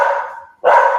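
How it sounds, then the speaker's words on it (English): Dogs bark outdoors, two loud, close woofs separated by a short gap, each sustained and ringing. "The dogs are going crazy today."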